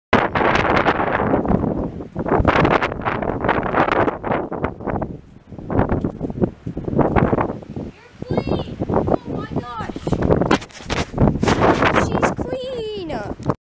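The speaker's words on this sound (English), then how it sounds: "Yes, I know the wind is absolutely horrible." Strong outdoor wind buffeting the microphone in loud rumbling gusts, with a person speaking throughout and brief higher squeaky sounds near the end.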